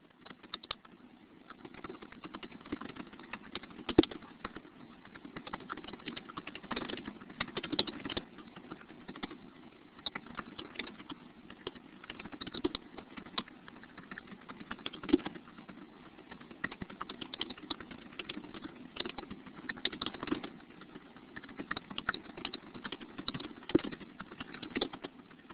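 Steady typing on a computer keyboard as example sentences are entered, with dense, irregular key clicks running continuously at close range and no talking.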